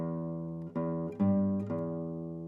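Electric guitar playing a riff low on the sixth string: a sustained low note followed by several firm plucked notes in a steady, deliberate rhythm, close and clear with no voices.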